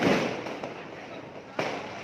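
Firecrackers go off during Diwali celebrations, a few sharp bangs with one loud crack standing out near the end, over background voices and crackling noise.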